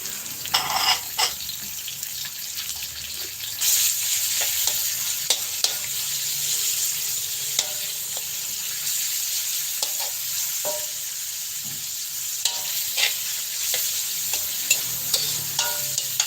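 Garlic sizzling steadily in a hot pan over a high flame while it is stirred, with frequent scrapes and clicks of a spatula against the metal and no voices.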